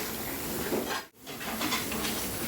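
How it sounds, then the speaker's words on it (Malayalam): Mackerel fries in a pan in a restaurant kitchen, giving a steady, dense sizzle and hiss that fills the whole clip without pause, close by and moderately loud. "അയലയാണ് ഈ വറുക്കുന്നത്. Fish fry"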